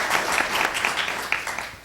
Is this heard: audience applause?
yes